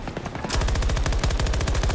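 Full-auto machine gun fire in Battlefield 2042, a fast steady stream of loud close shots that starts abruptly and keeps going, with no talk over it.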